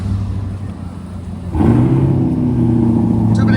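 A C8 Corvette ZR1 engine fires up about halfway through, a sudden loud step into a deep steady idle with a rising rev over a low background rumble.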